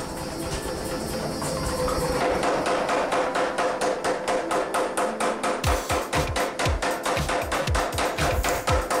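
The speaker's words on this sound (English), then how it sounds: "Especially first few hammer strikes are critical." A hammer forges a stainless wootz steel ingot into a bar, with rapid, evenly spaced ringing strikes that get sharper and more distinct toward the end, loud and close over a steady background roar.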